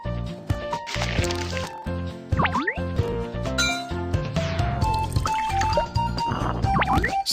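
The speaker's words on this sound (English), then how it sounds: "Mix latex and water." Cartoon liquid sounds from a Babybus children's game as latex and water are mixed: bright clinks, drips and pouring splashes layered over a busy, continuous musical backing, moderately loud throughout.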